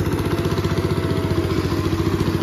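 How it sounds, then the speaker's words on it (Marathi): A tractor engine runs close by with a steady, throbbing rhythmic chug and a mechanical clatter. No one speaks. "आणि आता ट्रॅक्टर चालवता."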